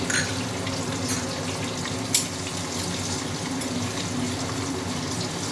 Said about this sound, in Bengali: এই তেলের মধ্যেই আমি এবার এই যে কালো জিরে এই কালো জিরে ফোড়ন দিচ্ছি